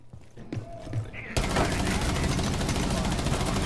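Rainbow Six Siege gunfire: after quieter in-game sounds, a loud, continuous burst of rapid automatic shots erupts and holds steady to the end.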